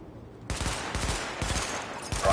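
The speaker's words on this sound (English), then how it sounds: "Open fire at the highlighted targets." Gunfire at a weapon test in the video game The Division: rapid automatic bursts crack out in quick succession, loud and close, following a brief quiet start.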